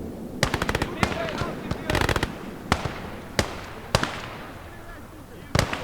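Machine gun fire in the Gates of Hell strategy game comes in short, sharp bursts and single cracks spread across the whole stretch, fairly close and loud, with a voice talking underneath.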